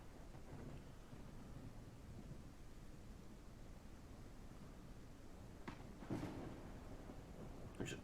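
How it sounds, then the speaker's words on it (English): A railroad video game's thunderstorm: a steady rain-like hiss runs throughout, and two or three sharp thunder cracks break through near the end. "storm is very thematic."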